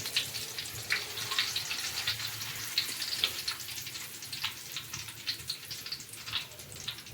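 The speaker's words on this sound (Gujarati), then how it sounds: "તેલ આપણું ગરમ થઈ ગયું છે, તો આપણે છે એ હવે ચોખ્ખાના પૌવા છે એ ચાયણીમાં આ રીતના રાખી અને આ રીતના છે એ તળી લેવાના છે" Rice flakes (poha) deep-frying in hot oil inside a strainer, a steady bubbling sizzle with crackling pops throughout, close and moderately quiet.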